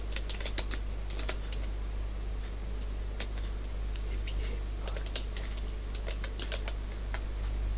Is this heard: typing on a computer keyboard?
yes